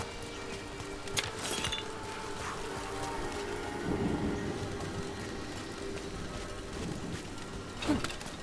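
Rain falling in the video game Dragon Age: The Veilguard, a soft steady patter with low rumbling ambience and a few sharper splashes or thuds, moderate and continuous with no talk.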